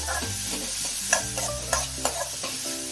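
Onions sautéing in a pan for kuzhi paniyaram, with a steady sizzle and several sharp clinks and scrapes of stirring, close and clear with no talking.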